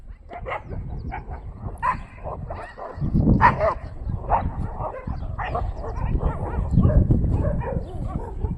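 Several dogs fight in a village street, snarling, yelping and barking in rapid overlapping bursts that grow louder and more frantic midway, fairly close and continuous throughout.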